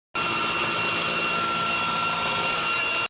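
A military helicopter roars in a loud, steady, unbroken whine and rush throughout a naval special forces rope-descent landing drill at a Black Sea training range, close overhead, with no talk.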